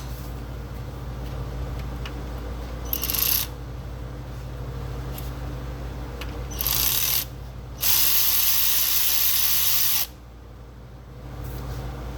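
A ratchet turns the crank bolt during harmonic balancer replacement on a 2012 Dodge Durango 5.7. Several bursts of close, rapid clicking come at uneven intervals over a steady background hum.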